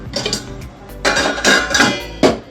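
A metal lid clatters onto a cooking pot of ridge gourd and moong dal curry, giving several close, bright clinks and knocks of metal on metal in a quiet kitchen, with no one talking.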